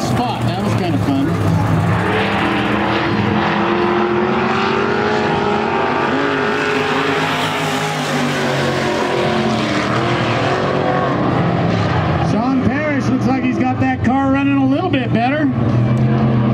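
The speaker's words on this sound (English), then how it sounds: "these are stock cars by IMCS" IMCA stock cars racing on the dirt track at Wild Bill's Raceway during a main event: a loud, continuous engine roar with rising and falling revs as cars pass, with people talking over it throughout.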